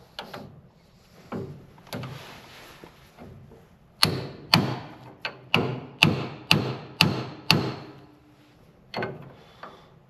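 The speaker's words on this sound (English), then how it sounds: "a couple more whacks for good measure. So just like that, our top bearing race is in." A hammer drives a bearing race into the steering knuckle of a Jeep Willys, heard as sharp metallic whacks up close: a few spaced blows, then a quick steady series of about eight strikes and two final hits.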